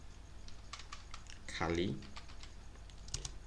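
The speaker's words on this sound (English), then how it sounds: "Then we just log in with our username, which is Kali. So we type Kali." A computer keyboard with a few short, quiet key taps entering a username at a login prompt, set against a steady low hum.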